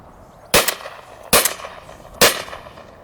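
Three sharp, evenly spaced shotgun shots from an ATA Venza Fonex firing Eley VIP Game 28 gram cartridges outdoors, each crack followed by a short decaying tail.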